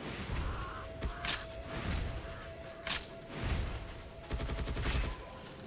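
Heavy machine gun fire in the video game Gunfire Reborn, played on nightmare difficulty: sustained bursts of rapid shots run throughout, loud and dense with brief sharper whooshes layered in, no talking.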